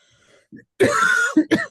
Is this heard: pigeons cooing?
no